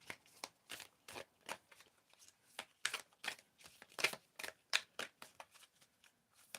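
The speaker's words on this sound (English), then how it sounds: "someone can tell me when to stop shuffling there" A deck of cards is shuffled over and over in a quiet room, each riffle or cut a crisp papery burst repeating in an irregular rhythm, close and fairly soft, with no talking.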